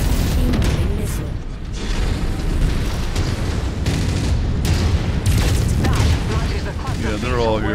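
Incoming missiles exploding in a mech combat video game, heard as a dense, continuous roar of booms and mechanical rumble that stays loud throughout, with a voice briefly talking over the noise.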